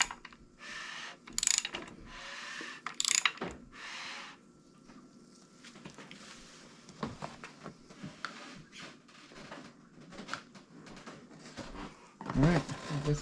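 An LS V8, a Gen 3 LM7, gets turned over by hand with a ratchet to prime its oil pump, giving irregular bursts of clicking pawl ratchet strokes and mechanical clatter separated by quiet pauses.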